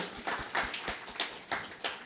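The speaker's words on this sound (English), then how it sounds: "Round of applause for him." Scattered rhythmic handclapping from a small audience at a workplace presentation, sparse individual claps at a steady pace rather than a dense roar, fairly quiet and brief.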